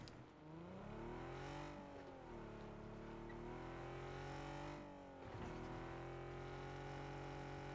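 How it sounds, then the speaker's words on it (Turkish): Engine of a car in the video game PUBG revving loudly and steadily with rising and falling pitch, a brief dip midway before it climbs again, no talk over it. "nasıl ses çıkartıyor oğlum bu arabalar ya?"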